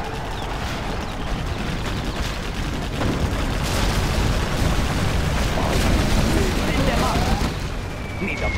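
Rapid gunfire and booming explosions from a Gatling cannon in the real-time strategy game Command & Conquer: Generals Zero Hour, a dense continuous barrage of battle noise filling the whole stretch.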